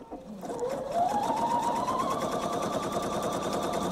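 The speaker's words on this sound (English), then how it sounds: "Just stitching right along that line." A sewing machine stitches along a line, its motor spinning up quickly into a steady, rapid, close mechanical whir with a rhythmic needle clatter that continues to the end.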